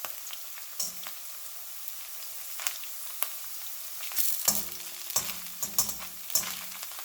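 Precooked nopales crisping in a pan, a low sizzle running beneath a series of sharp scraping and stirring clatters that grow busier toward the end.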